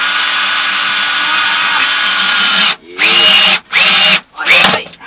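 A power drill drives screws on a boat near fiberglass, first in a long continuous whine, then in three short loud bursts with brief pauses between them.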